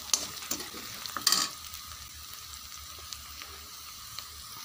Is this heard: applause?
no